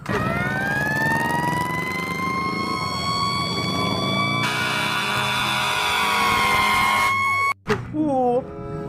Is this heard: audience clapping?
no